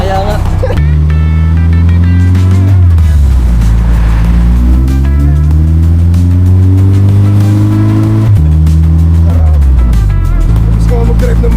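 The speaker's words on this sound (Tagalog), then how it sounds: "tapos na kami mag-test drive nitong ating 4G63 na owner type Jeep" Owner-type Jeep with a swapped 4G63 engine, loud and close, revving through several gear changes with rising and falling engine pitch, as people talk over it.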